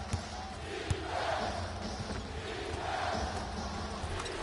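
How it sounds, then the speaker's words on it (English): A basketball arena crowd boos in two low, swelling waves that rise and fade, steady background murmur around them. "I'm hearing some boos from the crowd"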